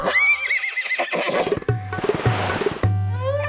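A horse neighs loudly in a long, quavering whinny up close, followed by snorting and a second shorter whinny near the end, with no one speaking.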